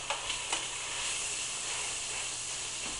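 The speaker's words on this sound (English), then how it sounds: "they're starting to sizzle." A soft, steady sizzling hiss of vegetables cooking on cookie sheets, with a few faint pops and crackles near the start.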